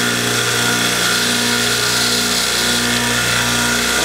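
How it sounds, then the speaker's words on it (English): A belt sander rounds off the head of a bolt cut from a socket head cap screw, giving a loud continuous grinding whine with the steel held lightly to the moving belt. "Now I will simply round off the top a little bit by very lightly touching it to the sandpaper as I turn it."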